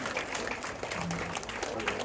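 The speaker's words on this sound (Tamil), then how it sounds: "நல்ல ஒரு கரகோஷம் கொடுத்தீங்க" Applause from the audience at an International Yoga Day event featuring children, a dense steady clapping that runs throughout with crowd noise and voices mixed in.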